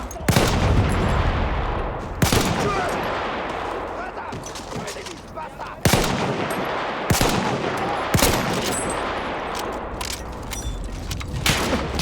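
Gunfire in the video game Battlefield 1, with repeated loud sharp shots and bursts over a dense battlefield din across the whole stretch, while players talk over it.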